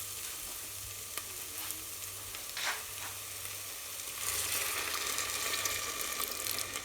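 Sweet potato cooking in a pan just after water is added, a quiet steady sizzle with faint bubbling and a few soft clinks, the hiss swelling louder toward the end.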